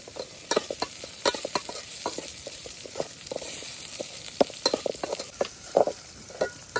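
Onions and tomatoes fry in a pan over an outdoor riverside cooking fire, with a steady sizzle broken by frequent sharp scrapes and clinks of a spoon stirring, close and fairly loud, with no talking.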